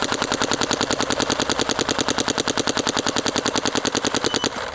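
A paintball marker fitted with a Carbon Nano barrel fires a fast, evenly spaced string of loud, sharp pops for about five seconds before stopping abruptly. No one speaks.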